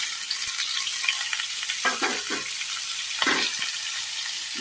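Spinach frying in ghee with cumin seeds, a dense continuous hiss with a few rustling, scraping bursts as the leaves are stirred, no talking.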